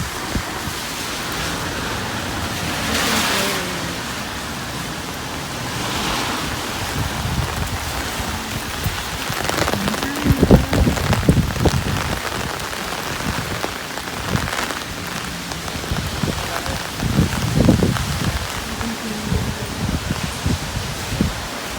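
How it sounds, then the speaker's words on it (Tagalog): Heavy rain pouring hard on a school grounds area in the Philippines on election day, a dense steady hiss with drops drumming on surfaces and occasional louder splashes, no talking. "it's raining so hard"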